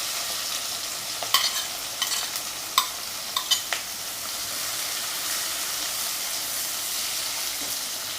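Onions sauté in hot oil with fennel seeds, cinnamon and cloves for spicy semiya biryani, giving a constant close hiss and sizzle with a handful of quick stirring clatters early on.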